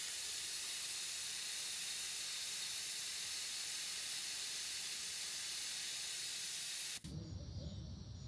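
A loud, steady hiss of air rushing out through a Bunker Industries tire deflator for about seven seconds, then cutting off abruptly, leaving quieter low rumbling handling noise.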